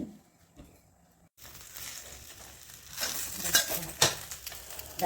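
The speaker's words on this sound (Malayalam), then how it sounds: "അതിലേക്ക് പരിപ്പ്, കായം, ഉലുവ ഇട്ടൊന്ന് വറുത്ത് വരാം" Dal, asafoetida and fenugreek roast in a pan. After a quiet start, a soft, steady sizzle takes over, broken by scraping and stirring and a few sharp clinks of a spoon against the pan.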